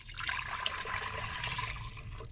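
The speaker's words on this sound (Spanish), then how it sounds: "por ahora le voy a poner este, un litro de agua" A liter of plain water pours into the pot of a multifunction electric cooker, a steady close splashing and gurgling stream with no talk.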